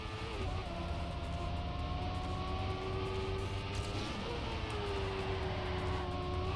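Racing video game car engine droning steadily at high revs with shifting pitch tones, continuous and fairly loud throughout, with a faint voice in the background.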